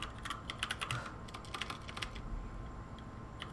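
Keys on a computer keyboard clatter in quick, uneven bursts of clicks, close and fairly quiet, with short pauses between runs of typing.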